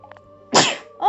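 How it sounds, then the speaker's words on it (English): A single sharp, loud sneeze from a person sitting close by, after a short quiet intake of breath, followed by a brief vocal sound. "I'm going to sneeze."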